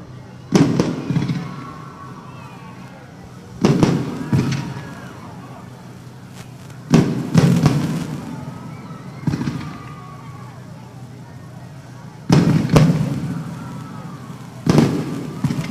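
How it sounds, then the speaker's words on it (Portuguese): Fireworks go off in front of the city hall in Indaial, Brazil, at the official Christmas opening celebration, with six or so loud bursts at spaced intervals echoing outdoors and a crowd murmuring between them. "Papai Noel assistindo do alto a queima de fogos e artifício"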